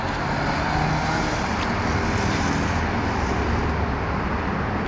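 Steady, loud highway traffic roar with cars and heavier vehicles rushing past continuously at close range, a dense unbroken wash of road noise.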